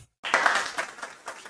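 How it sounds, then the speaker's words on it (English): A small group claps in scattered applause following a request to clap, the burst starting loud then thinning into a few uneven claps over about a second and a half. "Give yourself some applause."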